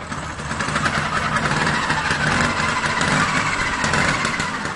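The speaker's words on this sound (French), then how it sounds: "il démarre son scooter" A Vespa scooter engine runs in a steady, loud idle, a continuous close mechanical drone without clear revving, no talk.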